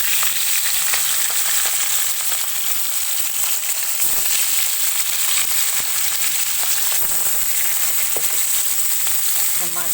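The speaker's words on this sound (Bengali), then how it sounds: "এই যে কড়াই তেল দিয়ে দিয়েছি, তেলও গরম হয়ে গেছে। এখন একে একে মাছগুলো ছেড়ে নেবো।" Fish frying in hot oil in a wok, a loud, steady sizzle and crackle that runs unbroken throughout, close by and alone.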